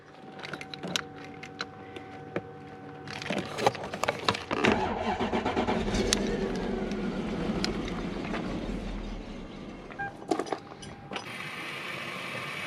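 Clicks and mechanical ratcheting, then a Toyota Soarer engine, being diagnosed, cranks and catches, settling into a steady running rumble that continues, close by.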